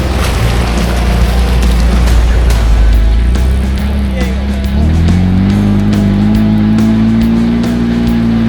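A 4x4 vehicle revs hard off-road at Syringa Park as it spins between trees. The engine note is loud and close, with a deep rumble that climbs into a rising, sustained whine.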